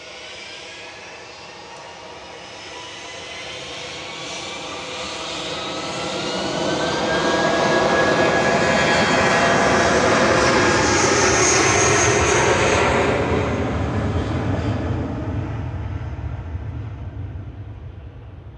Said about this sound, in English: Singapore 302 from Singapore, 9BSNW, A350-900 coming in.